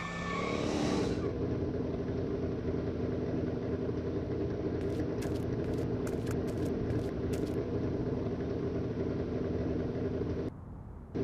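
A DeLorean car from Back to the Future drives steadily and loudly, its engine droning continuously, with a short burst of sharp clicks partway through.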